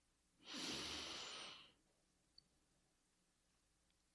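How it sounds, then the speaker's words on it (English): One deep inhalation through the nose during a guided breathing exercise, a loud, breathy rush lasting about a second, followed by quiet with a couple of faint clicks. "So inhale through your nose and exhale through your mouth."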